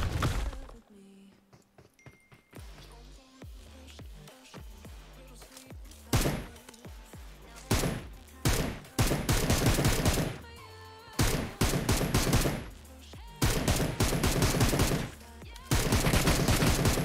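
Gunfire aimed at a vehicle in PUBG Mobile: loud, close bursts of rapid automatic shots that start and stop repeatedly, separated by short quieter gaps.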